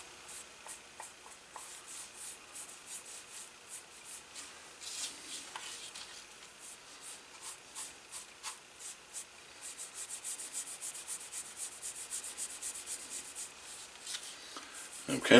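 A cloth rubs light brown dye into the closure strap of a 1936 Luger leather holster, giving a soft, steady scrubbing with repeated short strokes, close and fairly quiet throughout.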